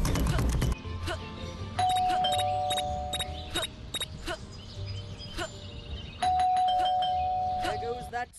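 A doorbell in the Scary Teacher 3D mobile game rings twice, each time a sustained electronic tone over a steady low hum, with clicks and small chirping game effects scattered around it.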